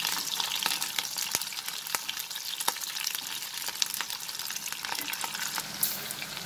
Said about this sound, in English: I will saute them only for a minute.